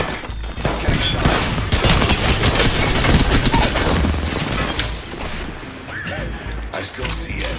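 Rapid, dense gunfire bursts and crashes from an Apex Legends match, loud and continuous for several seconds before thinning out, with a faint voice underneath.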